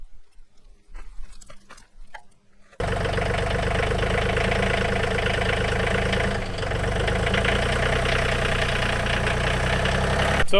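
A John Deere 3033R compact tractor idles steadily up close as it backs out from under a detached loader, a loud continuous engine drone that kicks in abruptly after a few seconds of quieter ambient noise and holds to the end.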